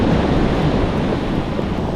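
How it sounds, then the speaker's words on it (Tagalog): Strong waves on a river churn near a riverside camping spot, a loud, constant rushing wash mixed with buffeting wind on the microphone, with no voices. "alon ng tubig."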